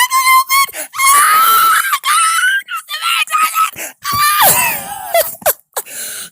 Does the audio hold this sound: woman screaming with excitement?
yes